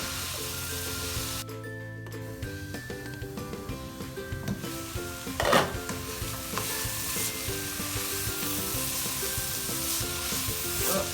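Cauliflower fried rice sizzles and fries in a pan over high flame while it is stirred and mixed, with steady crackling, scraping spoon strokes and a few louder clatters partway through.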